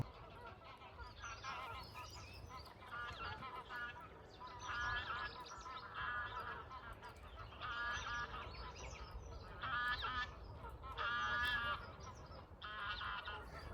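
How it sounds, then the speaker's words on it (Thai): Geese and swans on a pond in the English countryside, with repeated honking calls rising in bursts over a steady outdoor background, moderately near and loud, with no talking. "พวกหงพวกห่านกำลัง เล่นน้ำกันอย่างสบายใจ"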